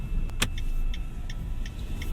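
Inside a 2024 Mitsubishi Xforce shifted into drive and pulling away, with a steady low cabin rumble and a few faint, evenly spaced clicks.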